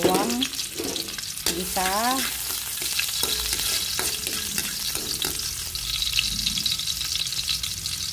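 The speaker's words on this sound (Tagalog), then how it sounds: "Ngayon, mainit na mantika. Maglagay ako ng bawang." Garlic frying in hot oil in a pan gives a loud, steady sizzle throughout, with a voice speaking briefly over it near the start.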